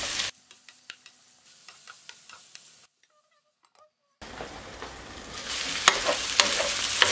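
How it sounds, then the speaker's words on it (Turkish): Onions with red kapya, green sivri and village peppers sautéing in butter and oil: steady sizzling with light clicks of stirring, a brief near-silent pause, then a louder, fuller frying hiss. "Bunları soteleyeceğim böyle"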